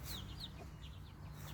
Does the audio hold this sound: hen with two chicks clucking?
yes